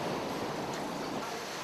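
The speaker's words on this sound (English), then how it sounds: "Here comes a big wave" Big storm surge wave rushing in during a severe storm, a continuous loud roar of churning water and wind noise with no distinct breaks.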